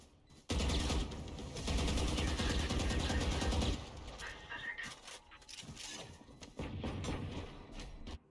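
Sustained rapid gunfire from a video game shooter, a dense loud burst of automatic fire lasting several seconds, then scattered shots and a renewed volley near the end, with no talking.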